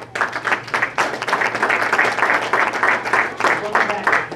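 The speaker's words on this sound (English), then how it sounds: "Give her a round of applause, guys." Audience at a live magic show applauding, a dense burst of clapping from a crowd that continues steadily, with voices talking underneath.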